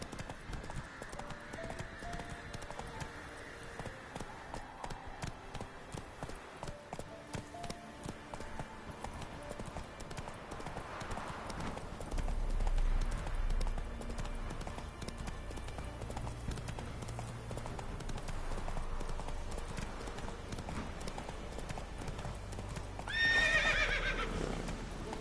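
Roach, the horse from the video game Witcher 3, clip-clops along with steady hoofbeats that speed into a gallop, whinnying near the end, with faint game music and ambience underneath.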